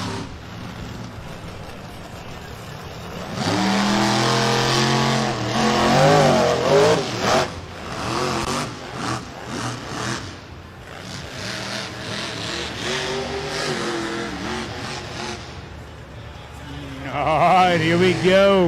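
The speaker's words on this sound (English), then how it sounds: "truck is shut down. We'll let him refire." A monster truck at an outdoor show in Mid America refires after being shut down, then its engine roars and revs hard in loud, rising surges while an announcer talks over it.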